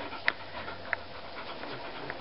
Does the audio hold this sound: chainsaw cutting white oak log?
no